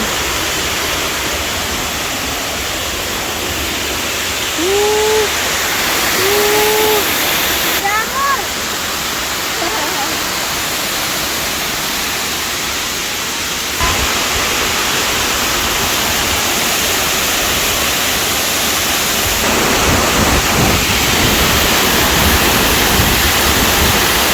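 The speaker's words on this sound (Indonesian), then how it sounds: "Oke, ini dia penampakan curugnya dari atas." A waterfall roars in a constant, dense rush, with a few faint bird calls rising briefly above the steady noise.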